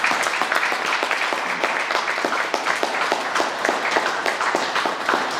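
A church congregation applauding at a consecration service, sustained steady clapping from many hands filling the room at even loudness throughout, with no voices standing out.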